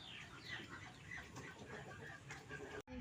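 Asil chickens cluck and murmur softly in a backyard while being fed, a faint, continuous flock chatter ending with a brief dropout.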